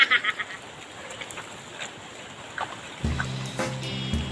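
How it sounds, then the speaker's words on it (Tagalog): Rain falls steadily in a cornfield beside a tree, a soft, even patter that is faint and continuous, with a brief tapping near the start and a louder low hum and rustle coming in near the end. "Basang-basa na sa ulan mga idol."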